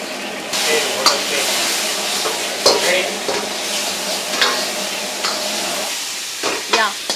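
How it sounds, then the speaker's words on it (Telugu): Carrots and garlic frying in oil, a steady sizzle with scraping stirring strokes and occasional utensil knocks, close and moderately loud, with no one speaking. "ఆయిల్లో అండ్ గార్లిక్ వేసుకోవాలి, క్యారెట్స్ వేసుకోవాలి, ఫ్రై చేసుకోవాలి"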